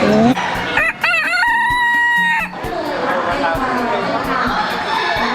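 A rooster crows loudly nearby at a poultry show, a rising then sustained call, followed by clucking and a murmuring crowd of people talking in the background.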